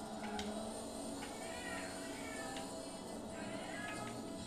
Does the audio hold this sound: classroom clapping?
no